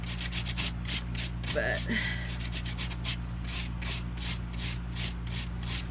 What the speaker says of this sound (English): Ideally file it first to make sure you're gonna need burr, just to deburr it.